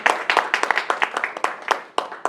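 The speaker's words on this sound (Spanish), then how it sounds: "Denle ese aplauso al Señor." A small church congregation claps, sharp individual hand claps coming close and fairly evenly in an irregular pattern, with no voices over them.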